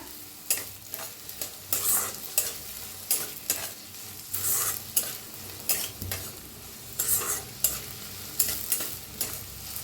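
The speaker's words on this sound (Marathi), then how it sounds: "कांदा चांगला भाजायला आलाय" Onion frying in a pan for an onion dal, a steady oily sizzle broken by repeated scraping strokes of a spoon stirring the pieces, close and moderately loud with no voices.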